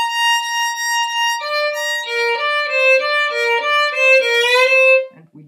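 A violin played with a finger held pressed down on the string through a position shift, so sustained bowed notes glide and smear between pitches, loud and close with no talking.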